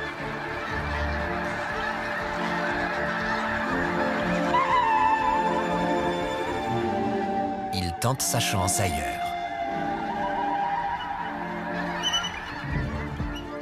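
A dense flock of geese honks continuously, loud and overlapping, with someone narrating over the din and a burst of flapping midway.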